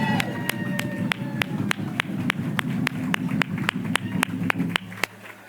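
A crowd at a convention reception claps for a drumline, producing a steady wash of applause under sharp, evenly spaced drum taps that stop abruptly near the end.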